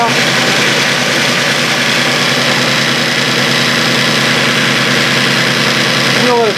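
A New Holland Workmaster 25 tractor's diesel engine idles steadily and loudly just after starting, a continuous close rumble throughout with a brief tonal whine near the end.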